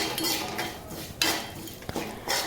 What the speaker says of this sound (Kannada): ಇದನ್ನು ಕೂಡ ಇವಾಗ ನೀಟಾಗಿ ಮಿಕ್ಸ್ ಮಾಡ್ಕೊಳ್ಳೋಣ.